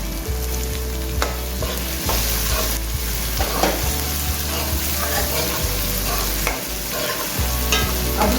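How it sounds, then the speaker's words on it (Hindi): Taro root and eggplant frying with garam masala in a curry pan, a steady loud sizzle with repeated scraping stirs running throughout, no talking. "अब हमने इसको अच्छे से फ्राई करना है।"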